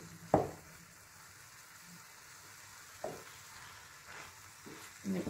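Cooked spelt noodles being mixed with wild garlic in a pan: a few sharp scrapes and knocks spaced several seconds apart over a quiet, low sizzle, with no one talking.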